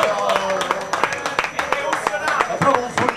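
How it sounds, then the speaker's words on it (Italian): A small audience claps in a bar at a live show, a brief patter of scattered hand claps with voices mixed in. "Un applauso a Massimo Parmigiani"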